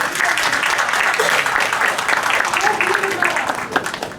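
Parents and staff at a school orientation for classes 4 and 5 applaud children, a lively, continuous round of clapping in a room with voices talking over it.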